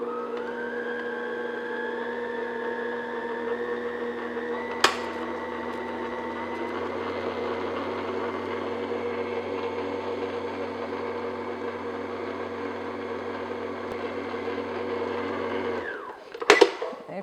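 Electric mixer beating butter and sugar on medium speed for yellow cupcake batter, a steady close motor whine holding an even pitch throughout, with a brief knock midway and clattering as it stops near the end.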